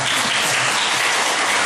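A packed crowd at a theology lecture breaks into loud, close applause. Thick, sustained clapping runs through the short moment without any speech.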